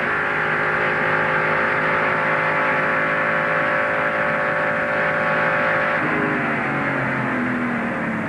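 Onboard engine of a Porsche-powered Fabcar prototype race car at the 2004 Rolex 24 endurance race, a loud continuous high-revving drone with steady harmonics, dropping to a lower note near the end as it changes gear.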